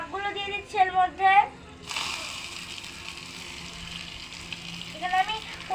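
Chopped water spinach (kalmi greens) dropped into hot frying oil already holding panch phoron, a sudden sizzling hiss that settles into a steady fry, with a voice talking just before and again near the end.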